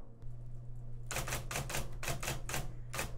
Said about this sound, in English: The typewriter?